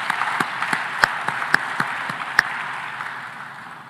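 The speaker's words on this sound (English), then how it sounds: "we should give another round of applause to the finalists" Scattered applause from an audience at an African food systems summit, a thin round of individual claps with a few sharp near hand claps standing out, fading gradually over four seconds.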